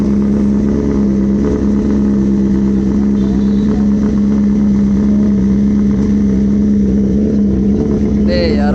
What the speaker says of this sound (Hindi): इसे बोलते हैं कोल्ड स्टार्ट।